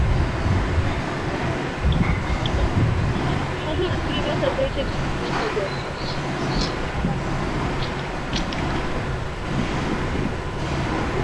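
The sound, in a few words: strong wind blowing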